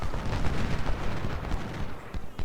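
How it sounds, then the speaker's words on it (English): Artillery fire from cannon batteries at the Civil War battle of Crampton's Gap in Ultimate General: Civil War rolls as a dense, continuous rumble of overlapping booms, loud and heavy throughout with no talking. "These guns seem to be longer range artillery"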